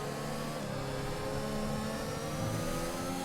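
An F1 car in the F1 2021 racing game accelerates with DRS open in a slipstream at the French Grand Prix, its engine a steady, loud, dense whine that holds throughout with no break.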